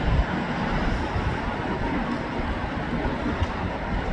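CrossCountry Class 220 Voyager diesel train departing Stockport station, a steady broadband rumble and roar of the passing train heard at moderate distance, continuous with no talk.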